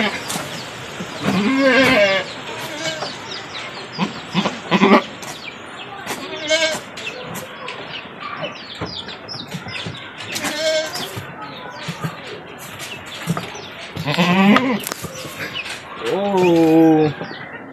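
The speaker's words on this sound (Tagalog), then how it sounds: "isang malusog na kambing." A healthy goat bleats in several short, wavering calls at a home with farm animals, heard between and under frequent talk, with the loudest cries near the end.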